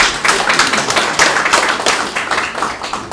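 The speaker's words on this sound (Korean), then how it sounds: "큰 박수 한번 좀 보내주시죠" An audience at a 2019 New Year press conference for the Goyang city mayor breaks into loud applause, dense sustained clapping for about three seconds with no talk over it.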